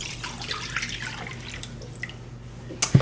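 Tap water poured into a measuring cup for chicken bouillon broth: faint running and dripping water in a kitchen, ending in a couple of brief louder splashes.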